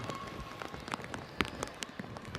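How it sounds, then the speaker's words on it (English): Rain pelts down on a rugby sevens pitch during a USA versus Canada match, a steady hiss broken by scattered sharp patters, with faint crowd and play noise underneath. "Rain continuing to pelt down."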